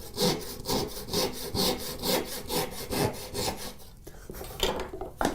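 Hand saw cutting wood for a dovetail joint, close and rhythmic back-and-forth rasping strokes at a quick, steady pace, about two strokes per second.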